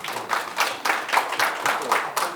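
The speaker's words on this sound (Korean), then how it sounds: "박수 부탁." An audience at a breakfast forum lecture applauds in a short burst of rhythmic clapping, several claps per second, fairly close and steady with no talk over it.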